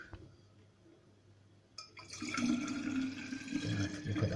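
Homemade apple cider vinegar is poured in a kitchen, starting quietly and then swelling into a steady, sloshing rush of liquid that keeps going to the end, fairly close and continuous.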